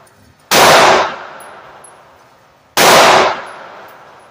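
Two loud, sharp reports from a Sig Model 210 pistol fired one-handed at a 25-yard outdoor range, spaced a couple of seconds apart, each ringing out with a decaying tail into quiet.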